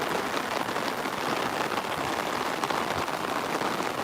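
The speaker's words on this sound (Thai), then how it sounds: "ทุกคนฝนตก ฝนตกแรงมาก แล้วก็สาดด้วยนะครับสาดซ้ายสาดขวาเลย" Heavy rain pours down at the Ramintra express-way market, a dense, steady hiss of drops pelting surfaces and stalls without pause, loud and close throughout.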